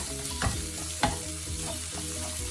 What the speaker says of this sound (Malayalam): മഞ്ഞൾപ്പൊടി അത് നന്നായിട്ടൊന്ന് ഇളക്കി കൊടുക്കാം